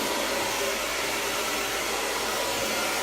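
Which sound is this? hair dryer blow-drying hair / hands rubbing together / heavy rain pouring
hair dryer blow-drying hair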